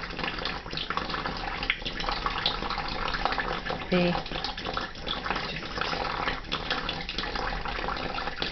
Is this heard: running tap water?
yes